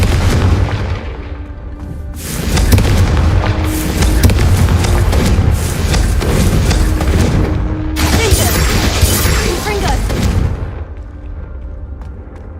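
Confringo fire spell exploding in the Hogwarts Legacy video game: loud booming blasts with crackling roar, two sustained bursts separated by a brief lull, up close and without talk.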